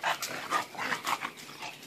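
Bulldogs whimper and let out soft yips close by, a series of short whiny cries rising and falling in quick succession with no talk over them.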